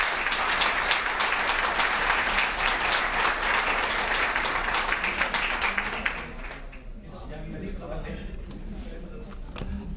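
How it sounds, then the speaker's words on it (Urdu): Audience applause fills a hall with dense, loud clapping for several seconds, then thins and fades after about six seconds while murmuring and talk carry on. "ان کو ڈھیر ساری تالیوں سے ان کا شکریہ ہے"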